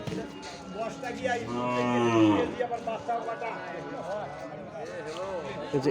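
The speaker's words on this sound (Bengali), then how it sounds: "এই যে দেখছেন গাভী আর এই যে সাথে বাচ্চা" A cow and her calf at a rural cattle market, with a loud, drawn-out moo close by against a busy background of crowd chatter and someone talking nearby.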